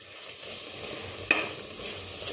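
Soya pulao masala mixture stir-fried in oil, a continuous close sizzle with one sharp spatula scrape or clink partway through, no voices.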